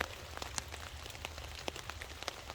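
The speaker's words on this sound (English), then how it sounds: "It sounds like the rain's starting to kick back in a bit." Steady rain patters on a surface on a mountainside campsite, with many small drops tapping irregularly over a soft, continuous hiss.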